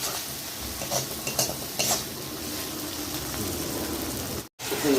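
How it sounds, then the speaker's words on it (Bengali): A spoon stirs a spice masala with tomato as it is sautéed in a pan, giving scraping, clinking strokes over a steady low sizzle, with a brief cut of silence near the end. "টমাটোটা দিয়ে দেবো, তো মশলাটা ভালো করে একটু কষিয়ে নেবো"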